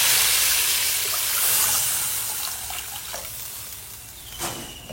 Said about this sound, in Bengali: মশলাটা হয়ে গেছে, এবার জল দিয়ে দেবো